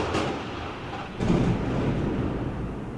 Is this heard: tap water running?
no